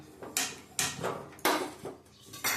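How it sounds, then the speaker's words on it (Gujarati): A metal kadhai wok is set down on a gas stove with about five sharp metallic clanks and scrapes at uneven intervals, close and clear in a quiet room. "અને હવે એની ઉપર આપણે કઢાઈ મૂકીશું, તમે જોઈ શકો છો"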